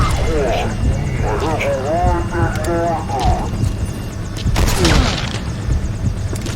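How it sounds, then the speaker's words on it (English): Metal Gear Solid game radio chatter over a steady helicopter rotor and engine drone, with bursts of distant gunfire and a heavy thump near the end. "Support helicopter requested."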